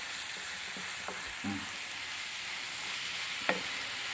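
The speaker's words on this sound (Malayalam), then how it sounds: "നന്നായിട്ട് ഇളക്കി കൊടുക്കുക." Chopped tomatoes fry in a pan for egg bhurji while a spoon stirs them, a steady close sizzle with a few soft scraping strokes and one sharp knock near the end.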